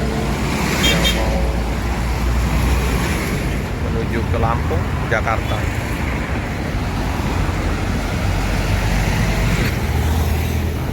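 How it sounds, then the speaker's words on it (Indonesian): Busy road traffic of private cars passing continuously, with engine rumble and tyre noise, brief horn toots near the start and middle, and a person talking over the traffic. "Pantauan jalan udah mulai dipenuhi kendaraan-kendaraan pribadi maupun mobil-mobil"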